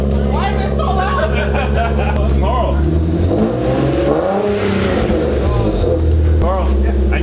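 A Nissan 370Z with a swapped VR30 engine idles loudly and revs up and down in rising and falling sweeps, close by, with people talking over it.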